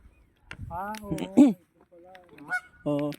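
Loud geese honking in a series of harsh, nasal calls, several overlapping bursts close by, with brief quiet gaps between them.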